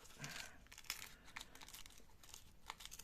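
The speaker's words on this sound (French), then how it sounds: "Là, par contre, je vais déchirer." Tissue paper torn by hand into rough-edged pieces, giving a soft, near crinkling rip with a few sharper crackles over three seconds, quiet and without talk.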